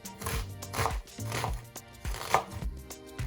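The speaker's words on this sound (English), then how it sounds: "I'm gonna cut my onion." A knife chops an onion on a cutting board in a home kitchen, with about six to seven uneven, close, solid thuds spaced roughly half a second apart; no speech.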